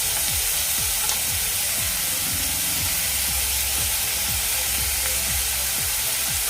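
Onions sizzling steadily in a pan for a Marathi Agari-style dried bombil dish, a constant bright hiss with soft scraping stirs of a spoon at irregular intervals, close up and with no talk.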